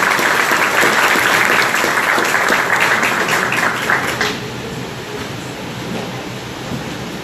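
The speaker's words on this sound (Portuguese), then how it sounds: "Salve de palmas, por gentileza." An audience at a ceremony applauds the arrival of a commanding officer, with loud, dense clapping that stops abruptly after about four seconds, leaving a quieter room murmur.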